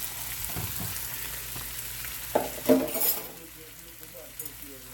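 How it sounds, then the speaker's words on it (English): Peppers and onions sauté in hot grease in a skillet, a moderate steady sizzle with a few sharp clatters and clinks midway as they go in, a voice faintly present beneath. "Peppers and onions have to be sauteed first. Dump them right on into that hot grease."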